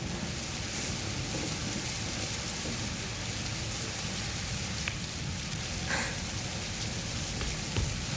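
Steady rain pours down in an even, dense hiss that lasts throughout, with a few faint drips and taps standing out here and there, heard alone with no voices.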